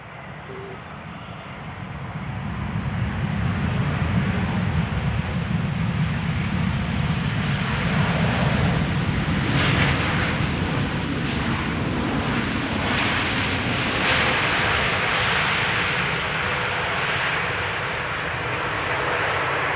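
A ten-year-old Belgian-registered Boeing 787-8 Dreamliner arrives at Amsterdam Schiphol from Curaçao, its engine roar rising from quieter beginnings into a loud, sustained rumble that eases slightly near the end, with no talk.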